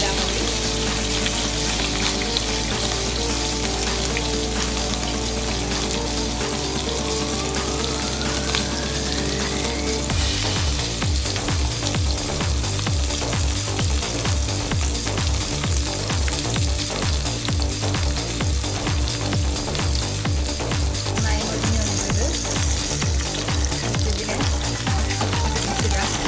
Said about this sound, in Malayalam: നമ്മളിവിടെ മീൻ ഷാലോ ഫ്രൈ ചെയ്യാൻ വെച്ചിട്ടുണ്ട്.